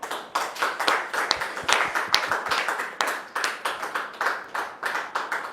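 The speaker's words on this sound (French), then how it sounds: "Recevons maintenant maman Odette Oyo sous vos applaudissements." A small studio audience claps in a rhythmic unison beat to welcome a guest onto a talk show set, firm regular claps close by with no talking.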